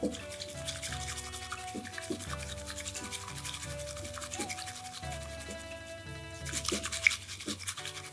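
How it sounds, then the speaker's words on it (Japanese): A bamboo chasen whisks matcha briskly in a tea bowl, giving fast, rhythmic scraping and frothing strokes over quiet tonal background sound. "大きく1の字を書くように茶碗の中でシャカシャカ振っていってください"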